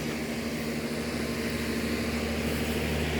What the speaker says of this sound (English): Sorry about the noise. That's the AC working for the house.